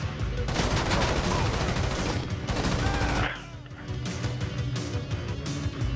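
Sustained automatic gunfire from a submachine gun in GTA V rattles loudly and continuously, dips briefly, then resumes in quicker bursts, with faint game ambience beneath.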